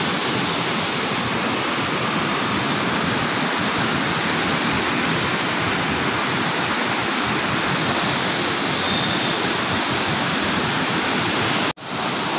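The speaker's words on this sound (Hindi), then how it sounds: "मनेरी डैम से थोड़ा ही आगे खेड़ी वाटरफॉल है, ये देखिए" Kheri waterfall, just past Maneri Dam in Uttarakhand, roars with a dense, loud, unbroken rush of water that fills the whole stretch, with a brief dropout near the end and no talking.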